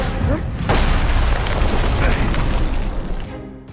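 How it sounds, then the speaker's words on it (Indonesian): A rifle shot booms out in an action film, a loud heavy blast followed by a dense rumbling roar that fills the clip before trailing off. "Kelthus dikejutkan oleh seseorang yang menembakkan senapan ke arahnya"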